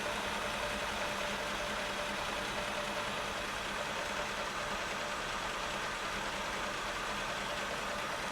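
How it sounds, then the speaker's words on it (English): A 1974 Chevrolet C10 engine idles steadily after a rebuilt Edelbrock 1406 carburetor install, a constant close rumble with a slight rough knock and no voices. "And then I'll just bring my idle down to what I want it at."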